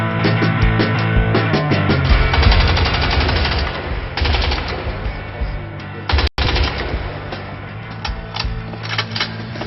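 Rapid automatic gunfire in the video game Crysis 2, a loud continuous stream of shots striking a wall, with a brief sharp dropout near the end before the firing resumes.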